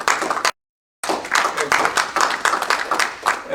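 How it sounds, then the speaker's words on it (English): An audience claps in steady, dense applause with many hands at mid distance, broken by a short half-second silence, then carrying on evenly to the end. "And let us give them all applause."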